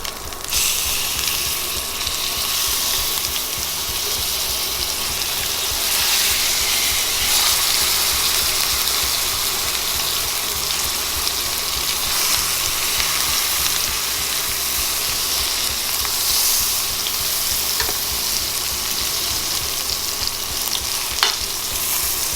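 Prime rib roast sears in a pan after being flipped, giving a dense, steady, loud sizzle that holds throughout with little variation and no voices.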